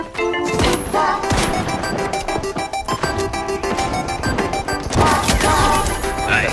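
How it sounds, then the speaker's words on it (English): Shotgun blasts and crashing impacts fire repeatedly in a zombie video game, loud and dense over a busy game soundtrack. "Shotgun."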